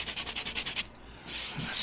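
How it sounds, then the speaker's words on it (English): Cracked leather in a Porsche 911 Turbo S being sanded by hand: about eight quick rhythmic rasping strokes, a short pause, then a steadier continuous scrub, close and clear with no talk. "let me start sanding this"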